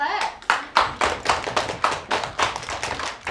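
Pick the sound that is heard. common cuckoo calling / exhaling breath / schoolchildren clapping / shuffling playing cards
schoolchildren clapping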